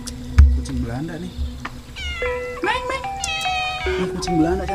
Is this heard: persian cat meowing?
yes